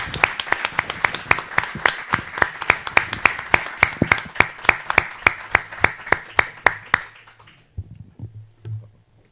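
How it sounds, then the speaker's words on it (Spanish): Rhythmic group clapping at a tribute gathering, a steady beat of sharp claps for about seven seconds before fading out, with faint room noise after. "Un aplauso para Luis, ¿no?"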